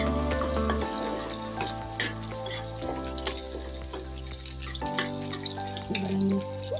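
Okra (bhindi) frying in a pan gives a soft sizzle under background hum and scattered clinks and stirring noises, with no talking.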